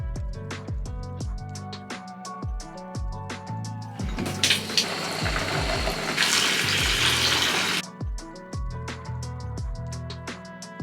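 Water gushes from a tap into a bathtub, a dense continuous splashing rush in the middle stretch, framed by sparse plucked music notes before and after.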